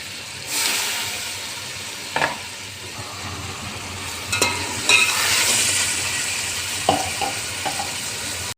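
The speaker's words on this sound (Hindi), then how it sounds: "और ये टमाटर जो काटे थे उसके साथ ही सौंफ ये डाल के भून लेंगे।" Chopped tomatoes, fennel seeds and dried plums sizzle in a pot for an aloo biryani, a soft steady fry broken by a few sharp stirring clinks and scrapes, with no voices.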